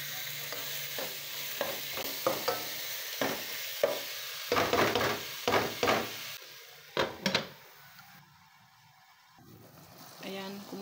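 Chicken pieces frying in oil in a pan while being stirred, a low sizzle under repeated scraping, clattering strokes of a utensil against the pan, with brief talk in between.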